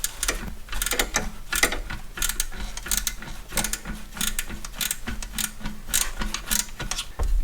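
Ratchet wrench tightening the alternator belt bolts on a Hyundai Getz engine, a steady run of close, loud mechanical clicking bursts repeating throughout with no talking.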